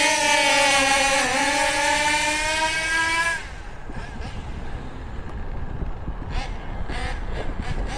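OFNA Titan Twin RC car with a new turbo, its nitro engine screaming at full throttle with a high, steady, slightly wavering whine for about three seconds, then dropping to a faint idle and background noise.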